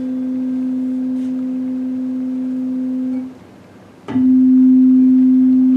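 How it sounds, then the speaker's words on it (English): A steady pure-sounding low tone holds for about three seconds and stops briefly, then a second tone of almost the same pitch but different timbre comes in louder. Together they form a very slow beat in a teaching demonstration. "There's a difference in timbre, but not really much of a difference in frequency, right? Very slow beat, can you hear it?"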